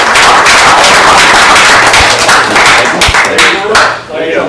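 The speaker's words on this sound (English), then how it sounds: "I think he deserves a round of applause for what he" A room of attendees clapping at a school board meeting, a dense, loud patter of hands with a couple of sharper knocks and a voice speaking over it, tapering off near the end.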